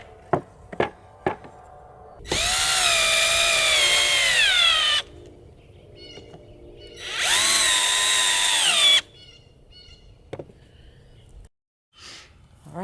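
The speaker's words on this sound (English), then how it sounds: "Drilling pilot holes." A power drill bores pilot holes in wood for a small Adirondack chair, with two sustained whining runs of a few seconds each, rising and settling in pitch, set between sharp knocks and handling clatter.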